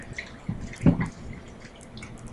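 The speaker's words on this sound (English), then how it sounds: "So we're gonna dump it back in the water." Raw whole chicken dropped back into a basin of water, a close splash followed by soft dripping and sloshing in a kitchen sink.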